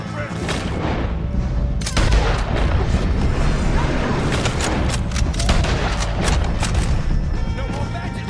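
Heavy gunfire in the video game Red Dead Redemption 2 rings out throughout as a dense, loud barrage of overlapping shots and booms, with shouted voices mixed into the fighting.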